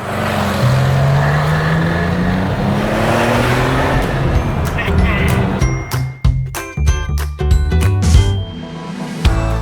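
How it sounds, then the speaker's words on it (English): A BMW i8 drives on a warm-up run, its engine humming steadily and then revving, with shifting tones and a series of sharp knocks and clicks near the end, all close and fairly loud. "We're going to start with a quick drive just to warm everything up."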